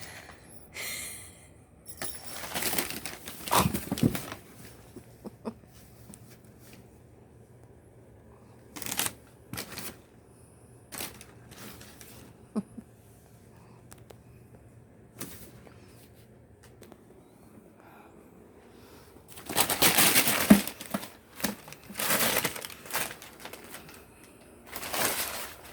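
A cat plays with crumpled packing paper indoors, producing scattered bursts of crisp crinkling and rustling separated by quiet stretches, with heavier rustling near the end.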